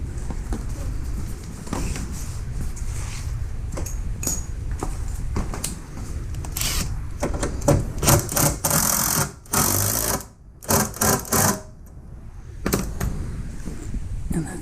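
Bolts being tightened on a rock slider fitted to a Mercedes W163 with a power tool, rattling ratchety bursts, the loudest in the second half, against a low rumbling background.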